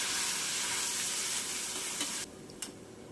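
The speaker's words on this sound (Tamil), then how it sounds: "இப்போ நல்லா வதக்கி விட்டுறலாம்" Onion and green chili paste sautéing in a pan for prawn curry, giving a dense continuous sizzle up close that drops suddenly near the end, with a faint clink of a utensil.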